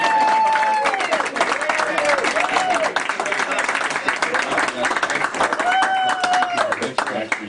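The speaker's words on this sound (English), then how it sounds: "So one more round of applause." A crowd gives a round of applause at a Tesla Day press conference in Sacramento. Dense, close clapping runs throughout, mixed with cheering voices and a few raised calls.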